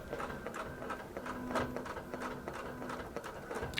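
A QBOT V3 quilting machine sews fine appliqué stitching, a steady rapid mechanical chatter with repeated needle strikes and a faint motor whine, close and continuous with no talking.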